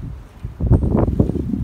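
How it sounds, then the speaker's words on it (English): A big gust of wind during a nor'easter storm, rising into a loud, rushing roar of buffeting wind after a quieter start, close to the microphone. "The first big gust of the night."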